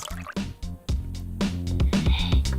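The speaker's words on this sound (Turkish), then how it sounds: "Sıcak suyu döküyoruz." Hot water pours and drips into a container nearby, a loud, continuous liquid sound with splashy bursts that grows fuller toward the end.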